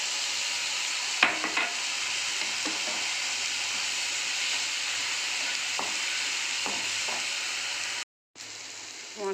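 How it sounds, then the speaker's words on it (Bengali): A ginger, garlic and onion paste fries in a pan for a chicken stew. It gives a continuous close sizzle with occasional soft stirring scrapes and knocks, then briefly cuts out near the end before resuming. "এবার আদা রসুন পেঁয়াজ বাটা দিয়ে দিলাম"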